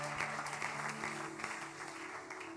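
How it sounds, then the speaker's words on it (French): A church congregation applauds for the Lord during a French-language service, a steady patter of many hands clapping at moderate distance with a faint undertone of voices. "Nous acclamons pour le Seigneur."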